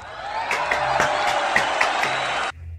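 A large crowd applauds and cheers steadily at the swearing-in of Mexico City's head of government, a dense sustained roar of clapping with occasional sharper peaks that cuts off abruptly near the end.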